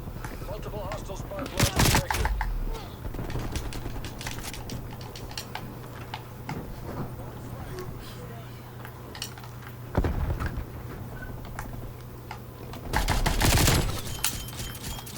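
Gunfire in a first-person shooter video game, with loud bursts of automatic fire near the start, in the middle and near the end over a low steady background, and soft clicking between the bursts.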